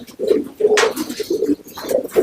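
Many pigeons coo in a breeder loft, a steady overlapping chorus of low, throaty rolls repeating close by, with a brief rustle of wings or movement partway through.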